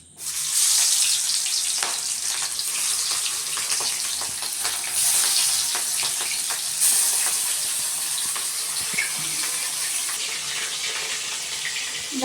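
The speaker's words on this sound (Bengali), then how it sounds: "তেল তেতে গেছে এবার মাছটাকে আমি দিয়ে দেব" Hilsa fish fries in hot oil in a village kitchen, a loud, continuous crackling sizzle that swells at a few moments and runs on without any voices.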